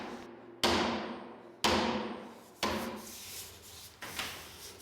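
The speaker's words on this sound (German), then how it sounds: "Die letzten Hammerschläge erledigt der Chef alleine." Four sharp hammer blows strike wood at roughly one-second intervals, each knock ringing briefly before fading, close and alone.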